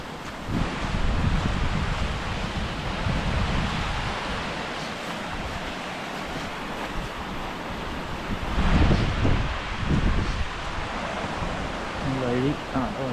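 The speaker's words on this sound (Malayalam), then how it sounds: "കാറ്റ് കുറച്ച് കുറഞ്ഞു." Wind blows hard on Ben Nevis, the UK's highest mountain, a continuous broadband roar with gusts buffeting the microphone and swelling louder toward the end.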